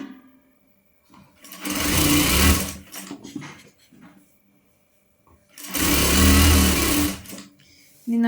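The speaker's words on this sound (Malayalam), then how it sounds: "എന്നിട്ടാണ് സ്റ്റിച്ചിങ് സ്റ്റാർട്ട് ചെയ്യുന്നത്." A sewing machine stitches an umbrella frock in two loud, steady runs of whirring and clattering, separated by a quieter pause with faint handling noises.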